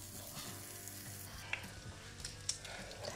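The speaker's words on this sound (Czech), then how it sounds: "Tu slaninu osmažím z obou stran." Bacon slices crackling in a pan over low heat, a steady fine sizzle with a couple of sharper pops, close and without talk.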